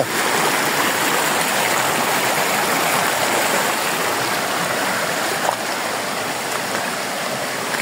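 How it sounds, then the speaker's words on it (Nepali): A river stream in Pokhara rushes steadily, a dense, continuous roar of flowing water close by with no voices. "खोलाको आवाज कति मिठो छ"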